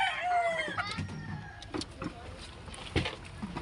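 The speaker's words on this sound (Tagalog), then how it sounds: "Ang inahin mo yan." A hen in a backyard coop gives a falling crowing call at the start, followed by scattered soft clucks and rustling, fairly close, with faint background noise.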